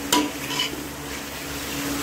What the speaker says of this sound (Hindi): इसे 1 से 2 मिनट तक इस तरह आप लोगों ने हिला देना है, ताकि अच्छी तरह मिक्स हो जाए